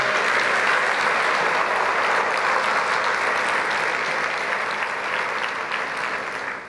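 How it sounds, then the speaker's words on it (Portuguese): A church congregation claps in praise during a sermon: loud, dense, steady applause that fills the room for several seconds and tapers only slightly at the end, with no talking over it. "Você pode dar uma salva de palmas para o Senhor?"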